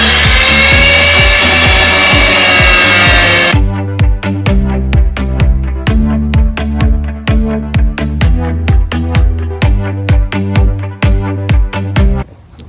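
Power saw cutting a wooden flap out of a van: a steady high whine for a few seconds, then a fast, rhythmic series of loud strokes that repeat evenly until it ends, close and with no voices.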